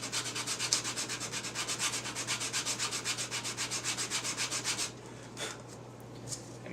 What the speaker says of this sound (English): 80 grit, I think, is probably plenty coarse for this.